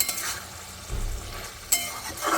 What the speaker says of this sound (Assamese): এতিয়া মই এনেকৈ অকণমান সময় ভাজি থাকিম